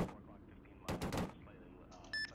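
A short volley of gunfire in a military video game, a tight cluster of loud rapid shots in the middle, with a faint electronic beep tone just afterward.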